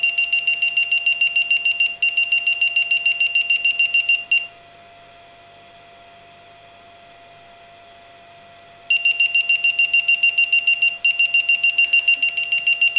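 A low-voltage alarm on a battery tester beeps loudly in fast repeated pulses while a lithium cell discharges, pausing for a few seconds of steady tone before the rapid beeping resumes.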